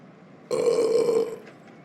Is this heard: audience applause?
no